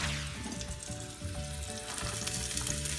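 Minced garlic sizzling in oil in a soup pot for sausage tortellini soup, a dense, constant crackling hiss up close with no talk.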